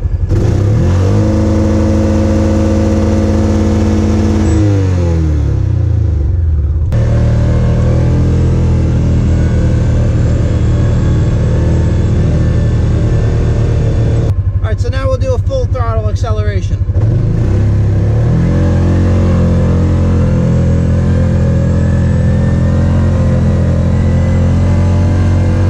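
UTV engine revving in neutral with rear brakes grinding, holding a loud steady drone with rises and dips across half a minute, a brief rev change near the middle, close-up and constant.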